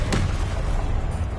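Blasting spell going off in the Hogwarts Legacy video game, one sharp close boom at the start followed by a rumbling tail under a low game background, with no speech.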